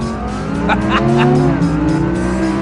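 An Audi R8 V10 plus on a racetrack makes a launch-control start: the engine roars loudly and its note climbs steadily as the car pulls away, with no talking over it.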